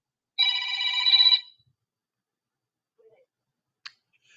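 A telephone rings with a steady electronic trill for about a second during a radio call-in show, followed by a couple of faint clicks and a single sharp click in otherwise near silence.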